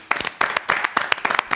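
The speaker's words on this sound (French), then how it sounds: "est-ce qu'on peut commencer par applaudir?" Studio audience at a French live show claps on request, a short burst of scattered hand claps, fairly close and loud, with no talk over it.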